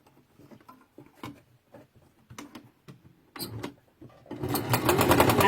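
A sewing machine stitching fabric pieces for a textile art seascape starts with soft, sparse clicks and taps, then runs into a loud, rapid, continuous stitching whir near the end.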